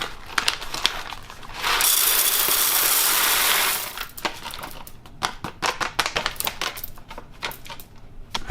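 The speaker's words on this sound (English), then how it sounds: "So this is a vacuum sealed little coffee thingy." A vacuum-sealed coffee container is closed, a sustained hissing whoosh of about two seconds, surrounded by rapid clicking and ratcheting as the lid mechanism is worked, close and fairly loud.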